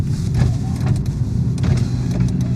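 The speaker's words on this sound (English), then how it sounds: "Electric windows do work." Power windows on a cheap Ford Focus whir steadily at close range over a low motor hum, with no talking.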